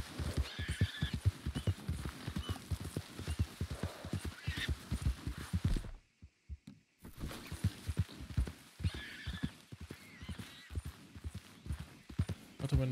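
A horse is ridden in a video game, its hooves clip-clopping in a steady, close gallop rhythm with occasional whinnies. A brief silent gap interrupts the hoofbeats midway before they resume.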